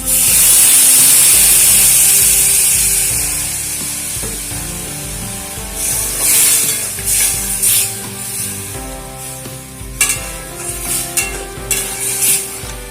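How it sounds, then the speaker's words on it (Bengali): Boiled beetroot and carrot water is poured into a hot pan of cumin-spiced vegetables, giving a loud steady hiss and sizzle that settles into softer bubbling and stirring clatter, with no talking. "এবারে এর মধ্যে দিয়ে দেবো সেদ্ধ করে রাখা বিট গাজরের জল"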